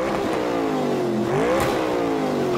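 A police squad car engine revs hard and accelerates, its pitch climbing, dipping briefly and rising again in one loud, sustained run with no voices over it.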